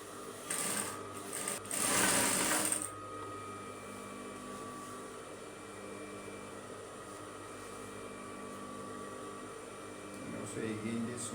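Sewing machine stitching a straight skirt: a short loud burst of rapid whirring stitches near the start, then a quiet room with only low background hum.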